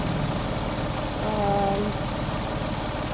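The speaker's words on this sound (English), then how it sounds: "So you can see the engine is now very quiet." A Peugeot 407 Coupé V6 engine idles quietly after repairs to an overheating problem, a smooth, steady low hum close by with no revving.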